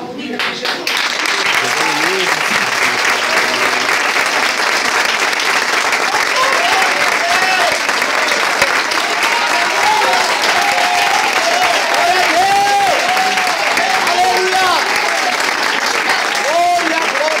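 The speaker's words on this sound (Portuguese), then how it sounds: "vamos dar uma salva de palmas comigo." A church congregation applauds at the first anniversary of an evangelical church. The clapping is loud and sustained for a long stretch, with voices and cheering mixed into the crowd noise.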